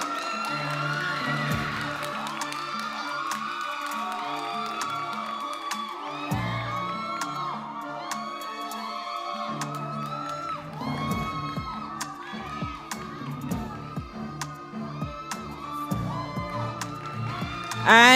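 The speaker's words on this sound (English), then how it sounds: "And keep the applause going." A crowd at a national music finals cheers, whoops and applauds a school choir's award win in a long, sustained roar with high shouts, continuing under an announcer's voice.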